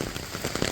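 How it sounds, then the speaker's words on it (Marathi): Steady patter of monsoon rain falling on a surface, close and even, with scattered drops standing out. "पाऊस तर चालू झाला आहे"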